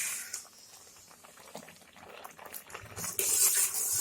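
Milk simmers and bubbles in a pan, boiling down for carrot halwa, with soft gurgling and occasional stirring scrapes that grow louder near the end.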